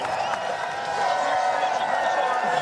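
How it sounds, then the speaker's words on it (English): A crowd cheers and applauds in a steady, dense roar at an X Games skateboard event in California, the wash of clapping and voices holding even and loud throughout. "Look at the crowd just behind him cheering."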